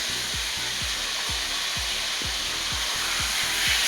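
An egg frying in a pan while dinner is cooked at home: a steady bright sizzle runs throughout, with soft low knocks from the pan at a regular, repeating rhythm.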